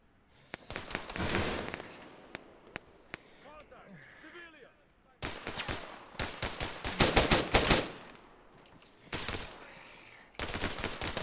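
Gunfire in the video game Arma 3, with rapid bursts and scattered single cracks from rifles, some loud and close, others fainter, coming in repeated volleys with quieter gaps between and voices talking in places.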